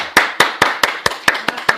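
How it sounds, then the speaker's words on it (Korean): Evenly spaced claps ring out in a quick steady beat at a church service, a handful of sharp, close hand strikes about five per second with no voices. "네, 박수 한번 주세요."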